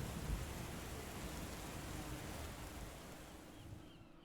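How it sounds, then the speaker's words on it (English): Steady rain pours down in a storm, a dense continuous wash of hiss with a low rumble underneath, fading slightly toward the end. "The storm's clearing up"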